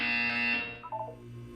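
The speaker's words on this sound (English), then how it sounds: "You will hear a buzzer." A loud electronic buzzer tone from the video game Portal 2 holds for about half a second, then tails off into fainter pitched blips.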